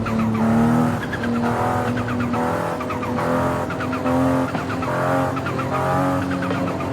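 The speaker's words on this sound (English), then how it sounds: "you just hear the same blow-off valve over and over again" Forza Horizon 5 race car revving and shifting with tire squeal, its turbo blow-off valve hissing again and again on each shift, loud and continuous engine noise.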